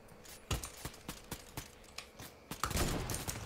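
Scattered shots ring out in a video game, several sharp cracks in an irregular rhythm, moderately loud, ending in a heavier denser burst.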